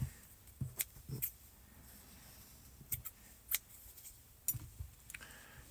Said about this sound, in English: give it a little tug and trim that tail